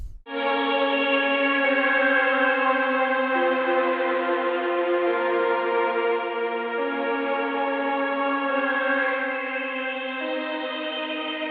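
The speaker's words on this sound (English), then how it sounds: "I'm going to throw effect rack on here so we can come up with maybe some delay." A sustained synth chord drones for several seconds, shifting notes in steps, with echoing delay repeats smearing each change into the next.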